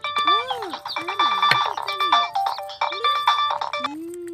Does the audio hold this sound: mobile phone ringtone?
yes